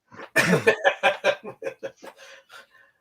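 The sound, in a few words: cough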